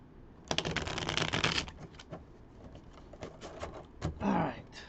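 Reading cards get shuffled close by: a dense riffle, then scattered flicks and taps as the deck settles, with a brief rustle near the end.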